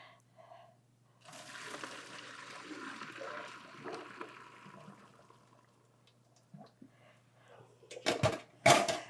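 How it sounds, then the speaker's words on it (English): Cold tap water pours over cooked pasta, a soft rushing stream that rises and fades over several seconds, followed by a few sharp clattering knocks at the end. "what we're going to do is cool down the pasta by running cold water over it"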